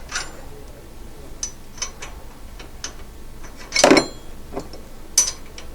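A factory nut is reinstalled on a Honda Pioneer 1000 door, heard as sparse ratcheting clicks and small metallic ticks at close range, with one short louder burst of turning.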